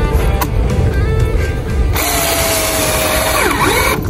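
A power drill drives screws into wood outdoors while a dirt jump line is being built, with short whirring bursts and then a longer sustained run with a rising and falling pitch near the end.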